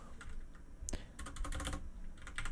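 Rapid typing on a computer keyboard while entering code, a steady patter of close, crisp key clicks with a few sharper bursts and brief pauses, no voices.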